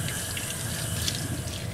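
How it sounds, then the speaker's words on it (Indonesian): Water runs steadily from a tap in a horror video game, a continuous rushing splash with no talking. "ada suara kayak air mengalir orang buka keran"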